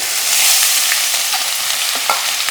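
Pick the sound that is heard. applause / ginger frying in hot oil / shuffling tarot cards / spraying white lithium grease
ginger frying in hot oil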